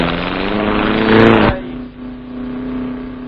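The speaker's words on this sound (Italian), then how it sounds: "La macchina viene prontamente girata e rimessa in moto a spinta." Gilera Rondine record car engine restarted after a push start, a loud revving roar that surges, then cuts to a lower steady hum as the car moves off.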